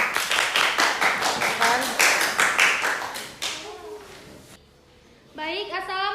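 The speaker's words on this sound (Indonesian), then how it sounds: "Tepuk tangan." Classroom applause from a group of students greeting a presenting group, a steady run of close, rhythmic clapping that fades out, followed by a voice speaking alone.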